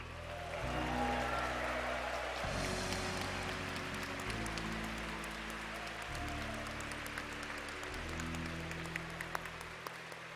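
A crowd applauds steadily for about ten seconds for a junior video game finalist at the 2023 Pokémon World Championships finals in Yokohama, Japan, with low music tones playing beneath the clapping.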